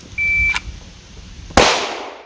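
A single sharp pistol shot from a draw drill on a shooting range, loud and close, with a short ringing decay. A faint electronic beep sounds just before it.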